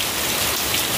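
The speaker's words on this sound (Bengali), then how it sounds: "অনেক জোরে বৃষ্টি হচ্ছে" Heavy monsoon rain pours down in a dense, continuous hiss of drops striking surfaces close by, loud and unbroken with no voices.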